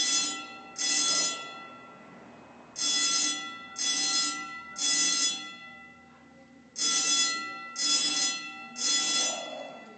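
An alarm bell rings loudly in bursts of about a second, three in a group, a pause, then three more, all close and with no talking.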